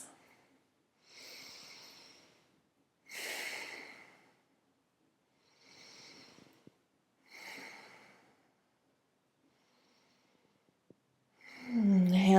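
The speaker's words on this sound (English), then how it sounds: "3 deep breaths" Slow, deep breaths during a yoga sequence, four or five long airy inhales and exhales spaced a couple of seconds apart, close and soft with silence between, ending in a louder breath.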